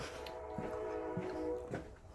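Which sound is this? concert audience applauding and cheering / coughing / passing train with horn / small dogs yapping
passing train with horn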